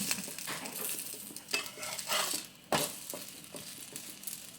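Suji bread toast roasts in a pan with a soft, close sizzle, broken by a few scraping and turning sounds of the spatula at uneven intervals.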